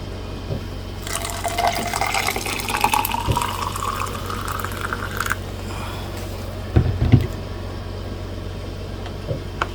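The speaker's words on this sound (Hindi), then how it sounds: "अब मैंने इसके अंदर हॉट वाटर जो है, केटल का पानी जो है" Hot water from a kettle pours into a cup of instant coffee for a keto bullet coffee, a rising gurgling fill that lasts several seconds up close, followed by a few clinks and soft handling noises.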